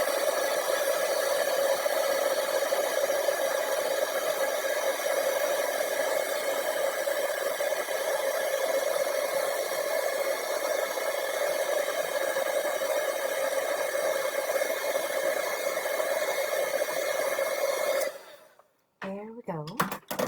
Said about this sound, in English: All right, so we're going to heat emboss this.